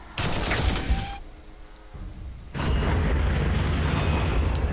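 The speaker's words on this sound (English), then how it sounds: "And some mortar fire." Mortar fire in the strategy game Warhammer 40,000: Armageddon: a dense, rumbling burst of explosions, a brief quieter lull, then another sustained roll of booming blasts that carries on loudly to the end.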